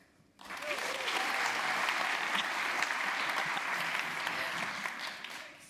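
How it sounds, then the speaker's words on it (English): An audience of lecture attendees bursts into sustained applause with cheering and whoops, a dense crowd roar rising abruptly and holding steady for several seconds before tapering slightly. "I'm going to ask you guys to clap or make some noise if you've been to"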